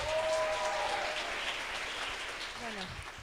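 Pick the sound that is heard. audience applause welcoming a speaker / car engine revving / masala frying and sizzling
audience applause welcoming a speaker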